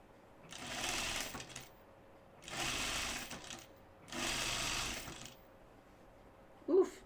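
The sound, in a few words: sewing machine stitching a quarter-inch seam on a dress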